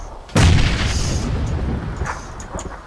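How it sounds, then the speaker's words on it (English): Stun grenade going off in a multiplayer shooter game, one sudden loud boom followed by a long ringing wash that slowly fades over a couple of seconds. "Oh, he's throwing grenades."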